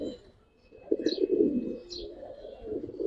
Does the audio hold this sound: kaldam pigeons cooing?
yes